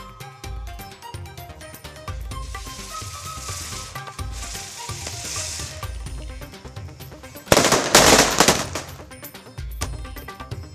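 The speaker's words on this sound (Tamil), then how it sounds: "ஈரோட்டில் அதிகாலையிலேயே பட்டாசுகள் வெடித்து சிறுவர்கள் தீபாவளி கொண்டாட்டம்." Firecrackers set off by children in the early morning of a Diwali celebration in Erode: a dense burst of rapid crackling pops around the eighth second, standing out over a steady bed of background music.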